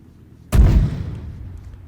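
A single mortar round fired in Arma 3, one sharp deep boom that decays into a rumbling tail, heard alone.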